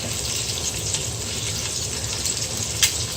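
About two pounds of pork ribs browning in a hot pan for Filipino sinigang, a steady close hiss and sizzle throughout with a brief crackle near the end.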